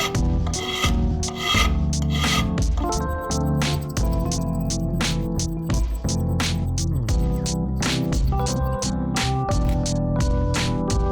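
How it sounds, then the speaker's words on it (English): A hand file rasps across a broken aluminum engine casting boss, cleaning and deburring it in a repeated run of close, loud scraping strokes with a steady rhythm. "take a file and clean the boss up"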